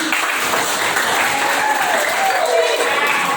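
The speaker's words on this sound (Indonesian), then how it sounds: "Tepuk tangan buat ini." Loud, steady applause from an audience at an Islamic religious lesson, continuous clapping filling the whole stretch with some voices mixed in.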